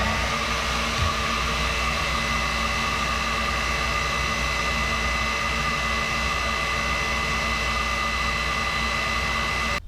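An air blower pushes air through a long dryer vent duct, giving a loud, steady rushing hiss with a constant whine. It holds unchanged for about ten seconds and then cuts off abruptly.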